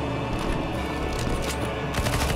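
Rapid gunfire in CS:GO zombie escape, a dense continuous fusillade of automatic weapons shooting at a boss knight, loud and unbroken with a brief burst of extra intensity near the end, no talk.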